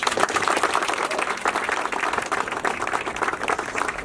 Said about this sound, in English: the person who really needs your applause, who deserves your applause